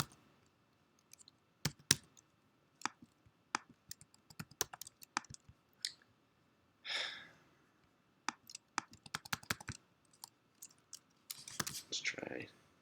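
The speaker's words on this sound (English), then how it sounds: "I'm just going to type in my Facebook information. Having a little bit of trouble here typing." Quiet, close computer keyboard typing: irregular clusters of crisp key clicks with short gaps, plus a couple of soft breathy sounds.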